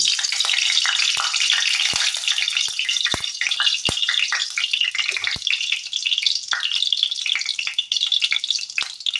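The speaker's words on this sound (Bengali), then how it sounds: "সো তেল দিয়ে দিয়েছি, তেলটা গরম হচ্ছে" Oil and ghee heat in a wok for Bengali fish kachori, giving a steady, bright crackling sizzle that runs throughout with scattered sharp pops, close and fairly loud, with no voices.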